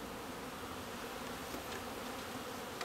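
Honey bees buzz at the entrance of a hive in a bee yard, a dense, continuous drone of many wings at close range with no speech.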